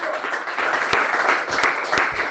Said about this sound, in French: Applaudissez le Seigneur de gloire.